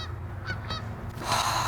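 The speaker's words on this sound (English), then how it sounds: "Geese, shut up." Geese honking outdoors, several harsh calls at moderate distance, with a louder burst of honking near the end and no talk over it.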